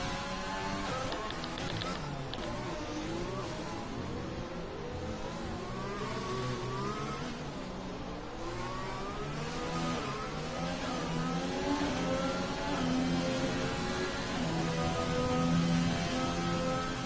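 Formula 1 race cars in a video game at Monaco, engines whining and revving steadily and continuously at moderate loudness, the pitch rising and falling with gear changes, with faint talk underneath.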